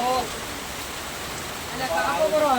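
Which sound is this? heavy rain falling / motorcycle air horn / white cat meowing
heavy rain falling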